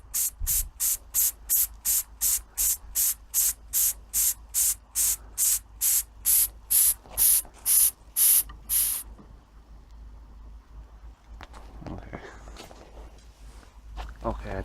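A model steam engine hisses as its pressure builds, giving out about twenty sharp, evenly spaced puffs of steam close by. After that it drops to a faint, quiet background with a few small mechanical noises.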